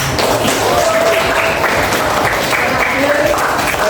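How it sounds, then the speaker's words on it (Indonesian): An audience, including children at a talk on almsgiving and charity, claps loudly and continuously, a dense, sustained burst of applause close up with some voices mixed in. "Tepuk tangan buat semua."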